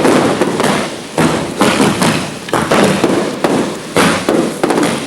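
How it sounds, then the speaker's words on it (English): Roman candle fireworks fire in quick succession at an outdoor display, each shot a loud thump with a hissing burst, about eight or nine in an uneven rhythm, close and powerful. "We begin with the Roman candle, sort of a whitewash to fill in our background"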